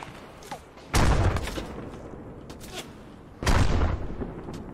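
Two heavy artillery impacts from an ARMA 3 bombardment thunder close by about two and a half seconds apart, each a deep boom with rumbling decay over a low battlefield background.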